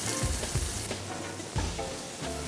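Fish sears in a hot frying pan, its whole surface pressed against the metal, giving a loud, steady sizzle with a few soft bumps and stirring sounds and no talking.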